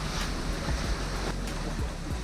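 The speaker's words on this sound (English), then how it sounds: "we didn't think we were going to be having to jump around in all of these waves" Sea waves and gusting wind roar around a sailing boat in rough water, a loud, continuous rush of surf and wind noise close to the microphone with no voices.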